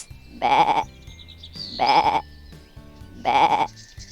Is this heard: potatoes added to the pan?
no